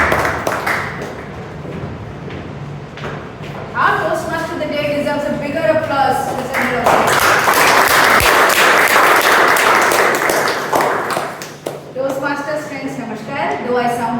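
Audience applause at a Toastmasters club meeting, a crowd clapping steadily for several seconds, mixed with voices speaking before and after the clapping swell, fairly loud and close.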